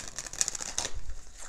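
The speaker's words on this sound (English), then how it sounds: "they said one more shuffle." Quick riffling rattle of tarot cards being shuffled by hand, a short burst of crisp flutters lasting about a second, close and clear.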